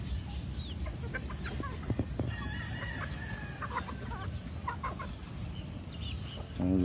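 Chickens on a large free-range farm during feeding time, with a rooster crowing and scattered hens clucking in the background, mid-distance and steady, plus a louder rustle near the end.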